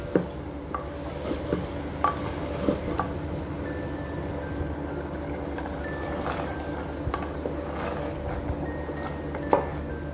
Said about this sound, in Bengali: আমি বেশ খানিকটা সময় নিয়ে সুন্দর করে আগে কষিয়ে নিচ্ছি